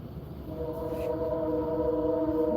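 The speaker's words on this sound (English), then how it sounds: "You like that train in the background? That happens to come by a lot." A passing train near a campsite at the Texas Renaissance Festival sounds a steady, droning horn-like tone in the distance that rises out of a low background rumble.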